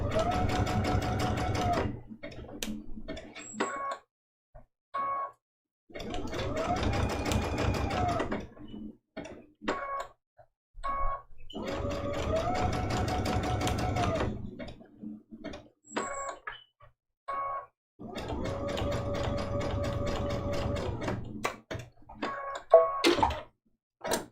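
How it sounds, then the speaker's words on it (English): A domestic sewing machine stitches raw-edge appliqué circles for a Christmas ornament trivet quilt, running in four long bursts of steady whirring separated by short pauses while the fabric is pivoted, close and clear with no talking. "I try to sew circles continuously and I just struggle with that"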